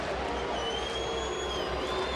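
A sellout baseball crowd of about 40,000 at Great American Ballpark during a Cubs–Reds night game keeps up a steady, dense roar of murmuring and cheering with no breaks.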